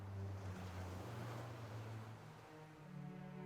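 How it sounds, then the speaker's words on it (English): Waves wash against a rocky shore at night near a campfire in a wilderness setting, a steady broadband surf roar with low rumble and some wind noise, continuous and fairly close, with no talking. "As you hear the waves washing against the rocky shore."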